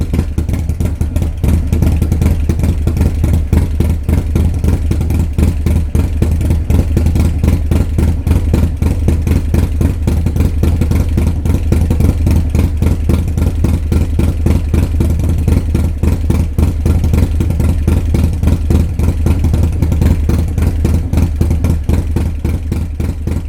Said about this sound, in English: Here is an audio clip of my bike with the Jim's A21 cam.